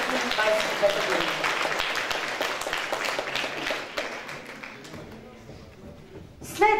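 An audience at a sports awards ceremony claps steadily, a dense patter of many hands that thins out and fades, with voices murmuring underneath.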